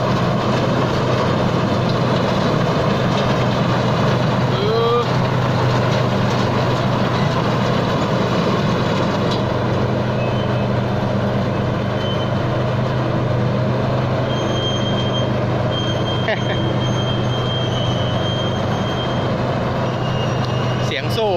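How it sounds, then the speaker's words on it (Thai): A Thai Seng rice combine harvester grinds through deep mud, its drive chain rattling and clanking in a loud, continuous mechanical roar from close by with no pauses. "เสียงโซ่ครับเนี่ย"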